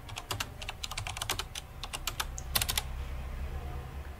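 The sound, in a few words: typing on a computer keyboard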